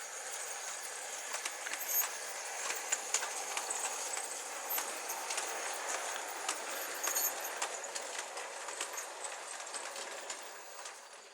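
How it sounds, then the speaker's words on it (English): A Beyer Peacock Class A steam locomotive on the Norfolk Joint Railway comes running through, giving a steady mid-distance rumble with rhythmic clanking beats that fade toward the end, with no talk. "her sister loco is about to come running through"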